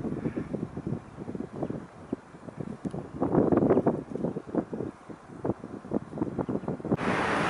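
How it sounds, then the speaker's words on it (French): Headwind buffets a bikepacker riding along the Rhône valley, a close, gusty roar of wind noise pulsing in rapid bursts throughout, with no talking. "Et il y a du vent de face."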